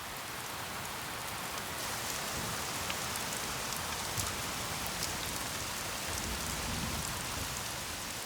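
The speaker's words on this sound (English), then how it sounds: "Then it rains down in torrents." Torrential rain pours onto a rainforest tepui plateau, a dense and steady hiss of countless drops that continues evenly without pause and with no voices over it.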